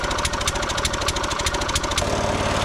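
Gasoline garden tiller engine, already running, with a loud, close, rapid chugging and knocking putter that keeps a steady rhythm and settles into a slightly different beat near the end.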